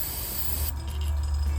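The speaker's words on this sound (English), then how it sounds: "When you spray it" An aerosol can sprays pearl top coat onto a crankbait fishing lure in one steady, close hiss lasting about a second and a half, with no talking.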